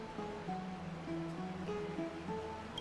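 Gentle lapping and flowing of spirit water in the video game Honkai Star Rail, a soft continuous wash beneath faint sustained musical tones, quiet and even throughout.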